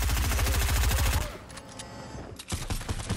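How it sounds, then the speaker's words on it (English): Rapid automatic gunfire in Fortnite, loud and close, rattling continuously for over a second before cutting off, then scattered fainter shots and pops. "Now start shooting at the base so he can get scared."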